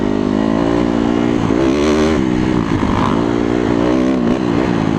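A Kawasaki motorcycle's engine bogs under throttle with a loud, rough, labored roar, close by and continuous for several seconds.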